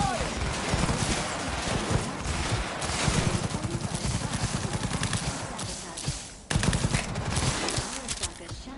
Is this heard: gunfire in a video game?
yes